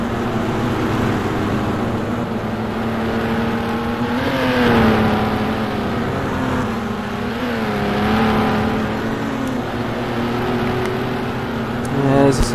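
1960s Formula 1 race car in a simulated racing event, engine tones rising and falling as cars pass, heard under steady commentary.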